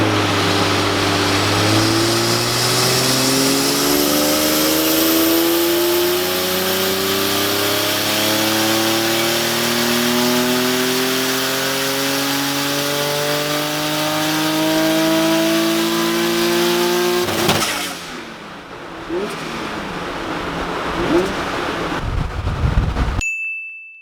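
Nissan 350Z twin turbo on a dyno at initial tuning with 1.1 bar of boost, engine revving loudly in long rising sweeps for about seventeen seconds, then cutting off to shop noise and fan hum with a few clanks.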